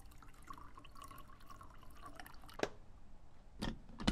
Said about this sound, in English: Pour the water